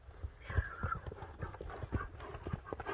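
Hooves of a Kyrgyz horse clip-clop in a steady, close rhythm of sharp thuds, with a brief whinny-like tone near the start and no talking.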